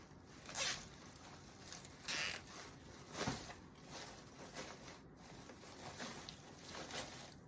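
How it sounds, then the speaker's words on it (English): A zip tie is cinched tight around a bow, giving a few quiet ratcheting zips with short bursts near 0.6, 2.1 and 3.3 seconds amid faint rustling. "I'm just going to run this zip tie"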